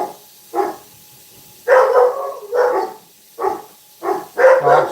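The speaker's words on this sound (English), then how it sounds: "Dogs are starting to bark" Dogs bark at close range in separate bursts, about seven loud barks spaced over a few seconds with short quiet gaps between them, and no voices heard.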